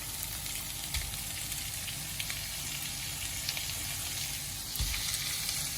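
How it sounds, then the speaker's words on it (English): Beef mince sizzles steadily in hot pans, with a continuous, fairly loud frying hiss and occasional scraping knocks as it is stirred. "I'll add half of the mince to each of the pans, and then we'll give it a good stir"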